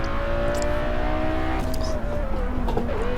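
Lamborghini Veneno V12 engine in Test Drive Unlimited 2 drones at a steady, loud pitch that slowly sags, with a brief dip near two seconds, while a voice talks faintly beneath it.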